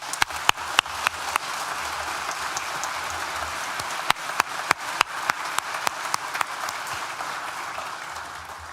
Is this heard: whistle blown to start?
no